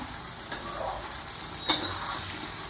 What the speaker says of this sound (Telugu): ఇలా ఒక్క 10 నిమిషాలు మగ్గనించి దింపేసుకోవడం.